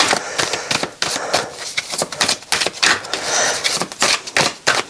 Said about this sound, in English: Have a little bit of a shuffle.